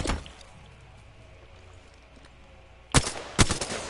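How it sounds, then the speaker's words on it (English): Gunfire in the video game Apex Legends: a quiet stretch of low ambience, then two sharp, loud shots close together near the end. "They spotted me. I'm taking shots."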